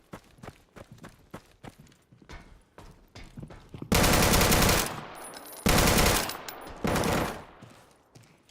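Heavy bursts of automatic gunfire aimed at the player in the survival shooter Deadside, starting as scattered shots with footsteps, then three long loud sustained volleys close by.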